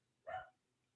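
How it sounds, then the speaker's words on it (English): A dog gives a single short bark, fairly close and moderately loud, in an otherwise quiet room with no talking. "I'm sorry about the dog."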